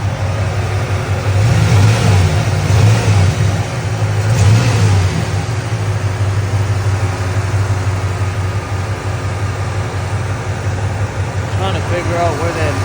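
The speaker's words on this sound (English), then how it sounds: "So I'm gonna move the car over there so we can try to figure out where this leak's at." An LT1 F-body car with a coolant leak idles and pulls forward, its engine a steady close rumble with mild revving, and someone talks over it at times.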